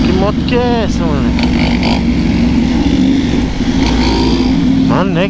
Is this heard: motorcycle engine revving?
yes